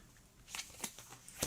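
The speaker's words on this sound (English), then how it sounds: "let's shuffle all of these like this" A deck of Astro Knights: Eternity game cards being shuffled on a table, a few quiet separate riffles and snaps, close and faint in a near-silent room.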